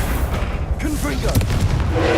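Confringo fire spell blasts in Hogwarts Legacy combat, a dense rumble of booming bursts with a few sharper cracks, close and loud amid continuous battle noise, with brief voice sounds mixed in.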